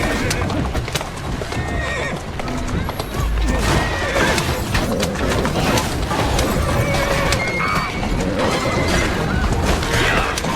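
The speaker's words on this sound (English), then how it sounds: "Who's a good horse?" A horse whinnies amid clattering hooves and busy action in Assassin's Creed Syndicate, a loud, dense scene with crashes and a voice briefly heard underneath.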